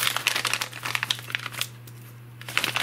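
Small plastic packets crinkling as ready-made fishing leaders for catfish and carp rigs are stored in them, a close series of sharp rustles and crackles with a brief pause near the end.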